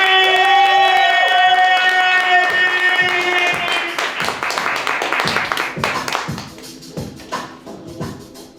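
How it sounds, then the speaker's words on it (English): Audience at a youth poetry slam clapping and cheering for the next poet, dense applause with a held vocal note at first, thinning into scattered individual claps toward the end. "People being clapping, people clapping, people clapping."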